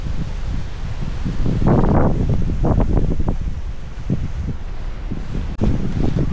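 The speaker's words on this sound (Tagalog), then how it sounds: "pag ganyan malakas ang hangin" Strong wind blows steadily, buffeting the microphone in loud gusts that rise and fall, with a rustle in the background and no voices.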